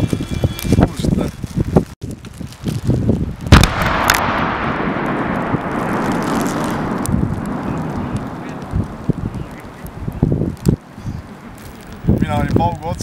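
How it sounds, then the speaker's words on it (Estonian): Two sharp outdoor blasts crack out, the second rolling into a long rumbling echo that slowly fades, with voices at the start and end. "Nii, paugud on tehtud, lõhkumine on toimunud."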